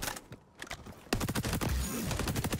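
Gunfire in the shooter game XDefiant, a dense crackling burst of rapid shots starting about a second in and continuing loudly to the end.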